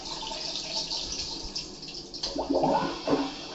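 A smart toilet, flushed with a button on its remote, starts with a faint trickle and then rushes water for about a second, moderately loud in a quiet bathroom.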